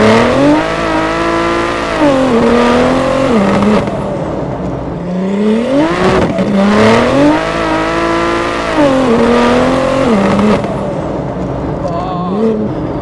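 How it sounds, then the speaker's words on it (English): A 1500hp BMW M140i accelerates hard through the gears, its loud close engine revving up in repeated rising sweeps with brief dips at each shift, and faint voices are heard underneath. "just went all the way into 5th gear then"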